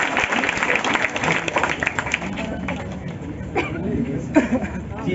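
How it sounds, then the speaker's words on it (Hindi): An audience applauds a student being awarded a prize at a felicitation event for candidates selected to the Bihar Police, with steady clapping mixed with crowd chatter and voices throughout. "एक जोरदार ताली अंकेश जी के लिए।"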